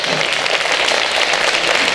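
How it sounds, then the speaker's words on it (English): An audience applauds at an award presentation at Universal Orlando, a continuous, even wash of distant clapping that blurs into a hiss-like texture with no distinct individual claps. "Another round of applause for Dave and Mike."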